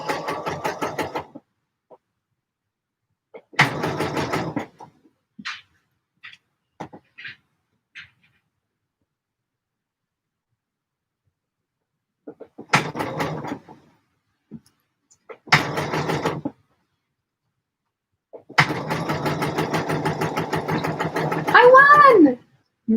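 Home sewing machine stitching a McCall's 7537 garment, running in several short bursts of whirring separated by silences, close and fairly loud, with the last burst longer, while people chat around it.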